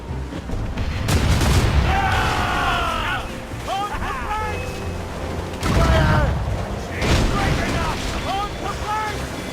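Ship cannons boom in a naval battle in Assassin's Creed Rogue, with heavy sustained blasts and rumbling under loud game music and shouted voices, with a second surge of fire midway.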